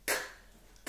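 A single short cough bursts out once, fairly close and moderately loud, then fades into quiet.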